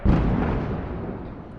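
A large explosion from an incoming missile strikes near a beach settlement, a heavy low boom that rolls and rumbles for over a second with no voices.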